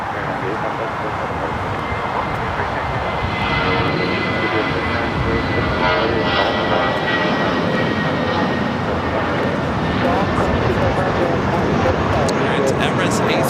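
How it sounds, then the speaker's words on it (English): An Emirates Airbus A380 jet airliner at LAX gives a loud, steady engine roar that holds evenly throughout, with a broad rushing wash and a faint high whine, a voice talking underneath. "Emirates A380 Super."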